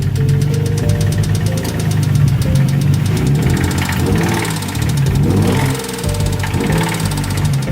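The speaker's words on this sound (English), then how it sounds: "if you advance the timing too much, you could get knocking or detonation" A car engine knocks from over-advanced ignition timing, a rapid metallic pinging tapping over a loud mid-pitched running engine, heard up close with no talking and the rhythm wavering as the revs shift.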